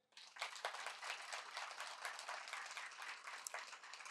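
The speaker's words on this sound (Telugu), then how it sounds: "సరే, క్లాప్స్ కొట్టండి." A classroom audience claps together in a sustained burst of applause, dense and continuous from start to finish with no talking over it.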